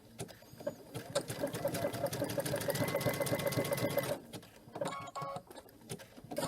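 A sewing machine stitches a blanket-stitch applique in a quilting class, running in a fast, steady mechanical rhythm for about four seconds before stopping. Softer handling clicks follow, with no talk.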